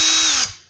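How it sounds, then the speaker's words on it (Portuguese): A Black & Decker HP14 cordless drill runs at low speed, its steady high motor whine holding briefly before spinning down and fading as the trigger releases. "Então você pode controlar a velocidade máxima da furadeira"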